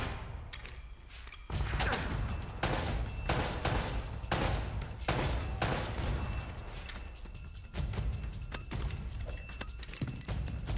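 Rapid, loud gunfire in the Uncharted video game, with dense sharp shots cracking in quick succession for several seconds, close and continuous, with brief pauses between bursts.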